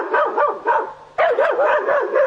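Dogs bark loudly and close by in quick repeated bursts of sharp, yelping barks. There is a brief lull near the one-second mark before another rapid run of barking, with no one talking.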